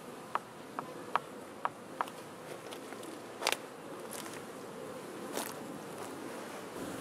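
Honeybees from a shrinking swarm at the hive give a steady, soft buzzing hum, with a few sharp ticks and taps scattered through it.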